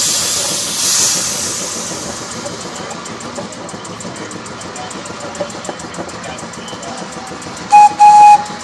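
Scenic railway steam train standing at a station, releasing a steady hiss of steam under a low engine rumble, with a few brief high tones near the end.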